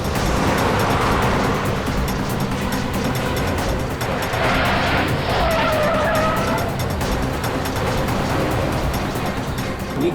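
Car driving fast in a chase, tires squealing and skidding over a continuous roar of engine and road noise, loud and close with no talk.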